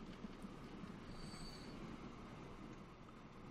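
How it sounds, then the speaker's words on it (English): Grain freight train with a full load rolling along in the Transport Fever video game, a steady faint rumble of wheels on track with a brief high metallic squeal midway. "There's the grain train with a full load."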